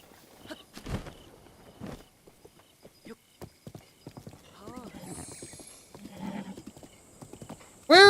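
Horse hooves clip-clop on and off in Zelda: Breath of the Wild, with a short whinny and a loud game sound at the end, under frequent talk.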